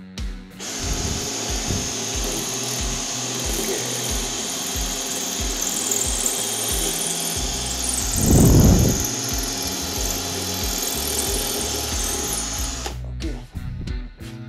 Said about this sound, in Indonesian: Kita ke posisi bor biasa agar tahu bedanya hasilnya seperti apa.